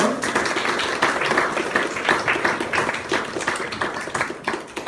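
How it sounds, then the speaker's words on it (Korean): A church audience of students and young people claps to welcome a guest lecturer, dense rapid clapping that holds steady throughout and thins slightly toward the end. "우리 박수로 맞이하겠습니다"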